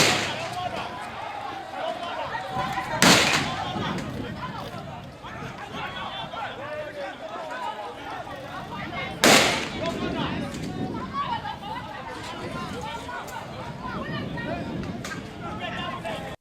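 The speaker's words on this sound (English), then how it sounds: "Hey, they are shooting." Gunfire during a street clash between youths and police in Sogakope, two sharp distant shots several seconds apart cutting through a constant crowd din and people talking and shouting nearby.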